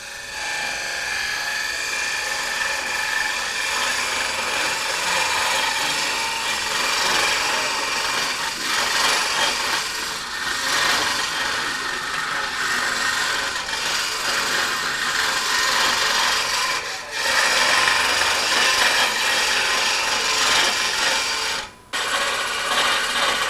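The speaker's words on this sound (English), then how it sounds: "Here again, die grinder, and put one of those wheels on it." A die grinder fitted with a cutting wheel carves a wet wood vase, a loud continuous high whine with a rough rasping edge, close and steady, dipping briefly near the end.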